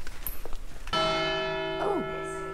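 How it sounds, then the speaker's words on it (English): A church bell in Spain strikes once clearly and rings on with a long, sustained, bright resonance that slowly fades, after some faint background noise. "the church bell just went off"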